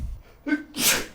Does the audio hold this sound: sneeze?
yes